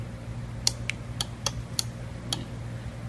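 Six sharp, dry relay clicks from a Dowontech DW350 car alarm set to silent mode, spaced irregularly over a few seconds, crisp and close, with a low steady hum underneath and no siren.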